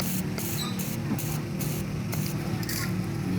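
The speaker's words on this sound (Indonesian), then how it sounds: "Coba lagi kita semprot lagi pakai WD dengan menggunakan WD" WD-40 lubricant sprayed onto a buzzing fan's rusty parts, a steady close hiss running in several short bursts with brief gaps, over a low constant hum.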